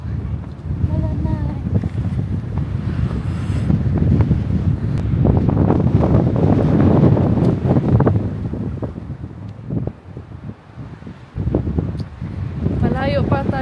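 Strong wind blows outdoors on a mountain viewpoint above Ålesund, Norway, roaring and buffeting the microphone in loud gusts, with brief talk breaking through now and then.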